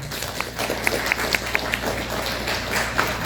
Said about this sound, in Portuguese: Palmas para o evento!